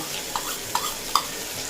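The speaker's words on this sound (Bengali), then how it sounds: "লাউয়ের সঙ্গে খুব ভালোভাবে কষিয়ে নেব যাতে মশলার কাঁচা গন্ধটা চলে যায়" Ground onion, garlic, ginger, chili and tomato paste frying with bottle gourd in a pan, a soft steady sizzle broken by three light spatula taps at even intervals, close and fairly quiet.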